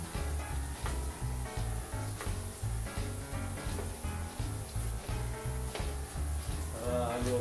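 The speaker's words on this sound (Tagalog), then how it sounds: "Ito yung ating pag-brown-brown ang bawang." Garlic browning in a pan for seafood pancit canton, a steady soft sizzle with occasional clinks, under a repeating low rhythmic background beat.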